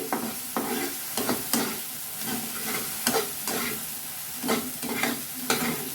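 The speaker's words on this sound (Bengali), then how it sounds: "দিয়ে দিচ্ছি জিরে আর ধনে পেস্ট আবারও ভালো করে একটু কষিয়ে নিচ্ছি" A cumin and coriander paste sautés in oil for a fish curry, stirred in a steady rhythm: repeated scraping strokes over a continuous loud sizzle, close up and with no talking.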